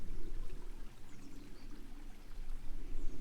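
Small Mosca Creek flowing along a trail near Great Sand Dunes and Zapata Falls, a steady close rushing and burbling of water with no voices.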